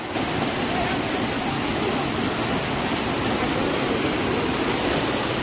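A stream swollen by heavy rain on a hill-fort trek rushes steadily, a dense, unbroken roar with no pauses or changes in loudness.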